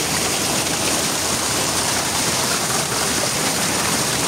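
Water rushing through a stream inside a cave, a loud, steady broadband hiss and splash that never lets up, with no voices.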